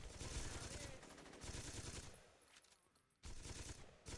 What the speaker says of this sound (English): Who gave these motherfuckers light machine guns?